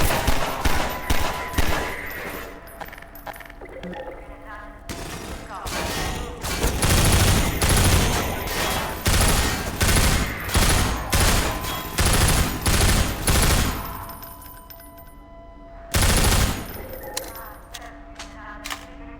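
Rapid bursts of heavy gunfire from a powerful weapon in Half-Life 2 VR, loud clustered volleys with brief gaps and a final burst near the end.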